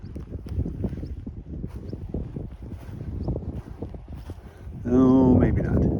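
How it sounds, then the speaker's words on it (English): Wind blows across open Alaskan wilderness near Denali, a low, steady rumbling buffet on the microphone that swells stronger near the end. "The wind is blowing, you're probably hearing that."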